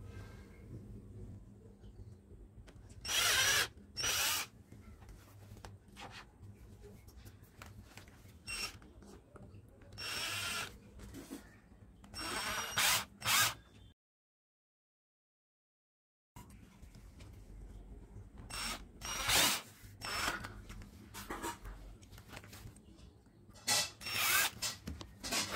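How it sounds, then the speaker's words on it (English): A drill bores a hole through a plastic sheet to hold a curtain pulley, with repeated short bursts of close whirring separated by quieter handling noise and one silent gap. "Making a hole to place pulley."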